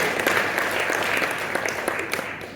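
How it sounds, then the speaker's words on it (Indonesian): A church congregation at a Jakarta worship concert claps heartily, a dense wash of applause that holds steady and fades slightly toward the end, with a faint voice underneath. "Berikan tepuk tangan yang meriah buat Tuhan."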